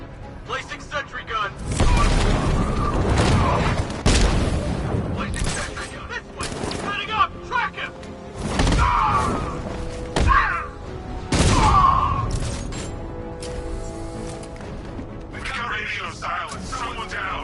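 Sentry gun in Batman Arkham Knight firing in loud bursts of booming, crackling shots, with mechanical clanks and voices between the volleys.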